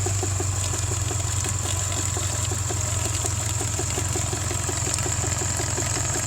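A Subaru engine that puffs blue smoke runs steadily nearby with a constant droning hum and a rhythmic ticking pulse, holding an even level without obvious rises in revs.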